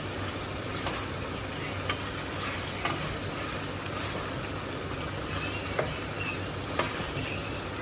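Pasta frying and being stirred in a pan on a home gas stove, a constant loud sizzle with occasional sharp clinks of a utensil against the pan.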